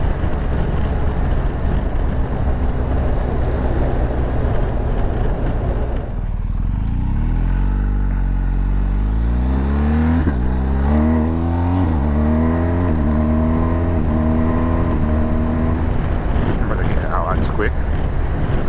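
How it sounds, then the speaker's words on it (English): BMW R1250GS motorcycle on a test ride, engine note rising steadily as it revs up through the gears, loud and close under heavy wind rush. "You don't really need to be revving this bike."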